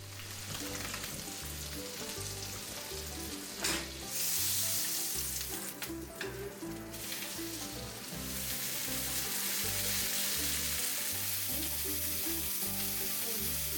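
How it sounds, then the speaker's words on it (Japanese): Floured cod marinated with herbs fries in a pan, a continuous crackling sizzle that swells louder partway through, with occasional utensil scrapes and no talking. "粉をつけてフライパンでソテーします。"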